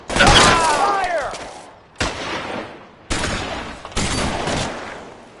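Gunfire volley in the video game L.A. Noire: a loud, dense burst of shots, then three more heavy bursts with sharp onsets at short intervals, opening with a brief shouted voice.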